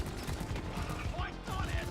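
A turret deploying in Deep Rock Galactic, a short run of mechanical clicking and ratcheting with rapid metallic ticks, fairly quiet and continuous.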